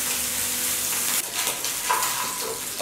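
Onions and garlic hit a hot pan of tender meat that is sticking to the bottom, setting off a loud close sizzle that settles into a softer, steady frying hiss with light stirring.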